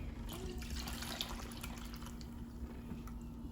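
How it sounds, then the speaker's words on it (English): Liquid pours and splashes steadily into a bowl, a soft continuous trickling close by. "Now we're gonna go ahead, pour it back into the same bowl."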